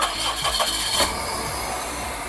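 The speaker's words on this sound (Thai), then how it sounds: "ครับนี่เครื่องยนต์ครับสตาร์ทง่ายทีเดียวติดเลยนะครับ" A 2006 Toyota Corolla Altis 1.8E engine cranks and catches, then settles into a steady, loud idle with no voices.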